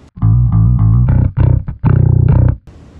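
Glarry GIB five-string bass guitar played through bridge and neck pickups together with two tone knobs rolled down, a short riff of deep, rounded plucked notes, close and loud with no voice.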